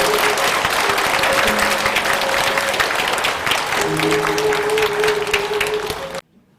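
An audience at a Buddhist precepts ceremony at a temple gives loud, sustained applause to volunteers, the clapping dense and even before cutting off abruptly near the end.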